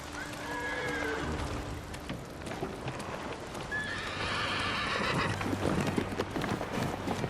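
Horse in the Ghost of Tsushima video game whinnying twice, rising neighs over steady clip-clopping hooves, close and clear with no talking.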